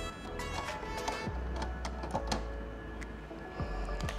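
Black print head being fitted into a Canon G3411 printer, a quick run of small plastic clicks, taps and light knocks close by, with a faint steady hum beneath.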